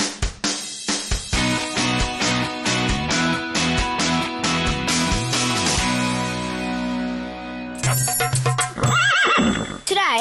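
A horse neighs loudly near the end after a run of sharp hoof clip-clops and knocks, the whinny rising and quavering close by.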